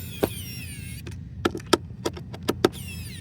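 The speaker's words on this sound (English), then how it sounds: "I guess that point where the screwdriver is bogging down" A Fanttik electric screwdriver whines at the start and end, its motor pitch sagging as it bogs down driving a screw through foam during FMS T28 model airplane assembly, with sharp clicks and taps between, close up.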